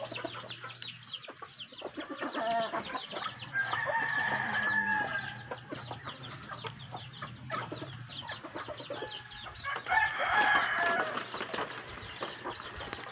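Native chickens cluck steadily nearby, with a few louder squawks rising over the flock's busy chatter.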